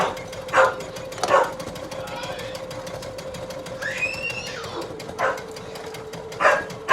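A female dog barks several times in a home, sharp separate woofs spaced across the stretch, heard over the steady whir of a Janome MC230E embroidery machine stitching a beanie hat, with a brief squeak partway through.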